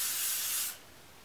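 A steady hiss of hair spray being sprayed onto hair for under a second, close by, then it cuts off into quiet room tone.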